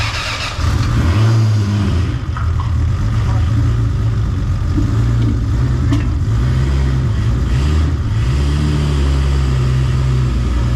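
A car fitted with a 2J engine fires up and revs, a loud, steady low engine drone with rising and falling rev swells throughout, voices faintly under it.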